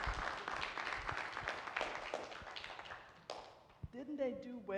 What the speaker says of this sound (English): So let's give them a round of applause and thank you all so much for being a part of this.